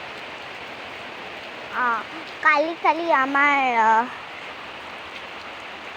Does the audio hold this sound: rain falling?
yes